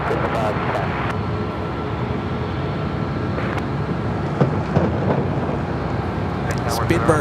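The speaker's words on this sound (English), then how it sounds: "The Delta A350, the flight coming from Tokyo Haneda, still making its way over to Terminal 3." Delta Airbus A350 arriving from Tokyo Haneda taxiing at Los Angeles International Airport, a steady broadband jet engine rumble throughout, with faint airport ambient noise and brief clicks.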